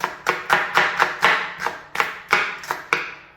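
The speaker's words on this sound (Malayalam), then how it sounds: "അപ്പോൾ ഇത് നമുക്കൊന്ന് അരിഞ്ഞെടുക്കാം" A knife chops an ingredient on a board while preparing Kerala country chicken curry, about a dozen crisp, evenly paced strokes, close and clear with no talking.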